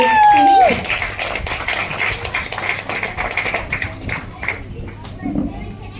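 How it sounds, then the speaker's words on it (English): An audience at an evening music gathering breaks into applause, a dense, steady patter of clapping that follows a brief sung note and continues with some voices mixed in, easing slightly toward the end. "can I have a big round of applause for my dear Sunil?"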